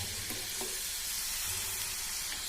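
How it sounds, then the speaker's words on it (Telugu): Chana dal frying in hot oil gives a dense, continuous sizzle and crackle with a few small pops, steady and close throughout, no voices. "ఇదైతే మంచిగా ఫ్రై కావాలన్నమాట"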